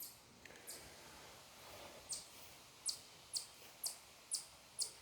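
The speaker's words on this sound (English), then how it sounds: "I'm just letting you listen to the birds." Birds sing outdoors, faint and distant: a series of short, high chirps repeating at a steady rhythm over a quiet background hiss.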